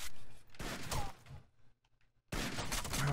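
Gunfire in the Rainbow Six: Vegas video game, bursts of dense rattling shots, loud and close, broken by a short quiet pause before another burst.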